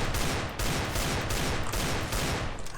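Video game gunfire, a rapid dense fusillade of shots in bursts separated by short gaps, loud and continuous, with no talk.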